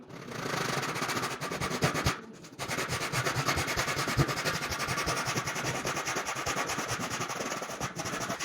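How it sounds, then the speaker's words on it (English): A handsaw cuts wood for window shutters in quick, regular back-and-forth rasping strokes, close and steady, with one brief pause partway through. "I'm only going to do this with a handsaw"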